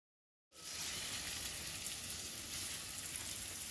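A strip steak sizzles in olive oil in a cast iron skillet, starting abruptly after a short silence and then holding a steady, dense crackle and hiss close by with no talking.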